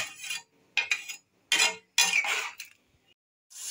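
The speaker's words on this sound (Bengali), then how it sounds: "এবার আমি আলুটা সেদ্ধ হওয়ার জন্য ঢাকা দিয়ে দেবো" Metal lid set over a pot of boiling potatoes in a home kitchen, a series of close, bright clinks and scrapes in several short bursts separated by quiet gaps.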